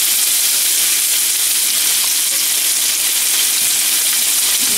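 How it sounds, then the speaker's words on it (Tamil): Nethili anchovies frying in a small amount of oil give a loud, continuous sizzle that holds steady throughout, close up and with no voices. "இப்போ இப்படியே ஃப்ரை பண்ணி கொண்டு வரணும்."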